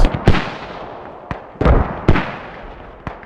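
Mortar fire in the tactical shooter game Squad: several sharp booming impacts spaced irregularly, each with a short rumbling tail, loud and close with no voices.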